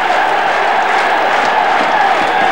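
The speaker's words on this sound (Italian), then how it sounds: "Lo stadio di Via del Mare incoraggia a gran voce la squadra di Mazzone" A home crowd at Lecce's Via del Mare stadium in a 1987/88 match against Taranto gives off a loud, sustained roar of cheering voices, dense and unbroken from start to finish.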